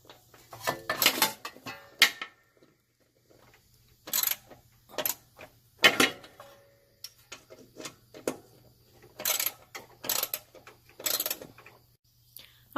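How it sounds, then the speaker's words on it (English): An 8mm socket works loose nuts and bolts on a cover over a pulley, giving close, scattered metallic clicks, ratcheting and tool clinks in bursts separated by quiet gaps, with a faint steady hum beneath. "it uses an 8mm socket, so I'm going to remove those nuts and bolts"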